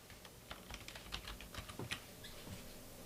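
Quick, irregular keystrokes on a computer keyboard as a file title is typed, a close, soft clatter of taps with no talking.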